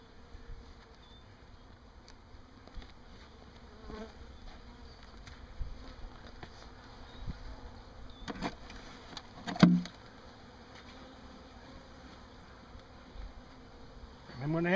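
Honey bees buzz faintly and continuously around an open hive, with a few louder passes close by and some handling noises near the end.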